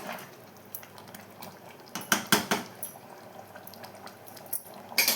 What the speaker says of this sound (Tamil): லைட்டாக ஒரு கிண்டிட்டு நம்ம மூடி போட்டு விட்டுக்கலாங்க